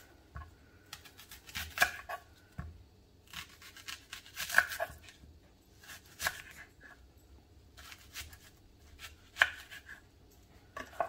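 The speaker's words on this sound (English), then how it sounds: "cutting my onion, slice it in half" A knife cuts through an onion, halving and then quartering it, in a handful of separate crisp chops spaced a second or two apart, close but soft against a quiet room.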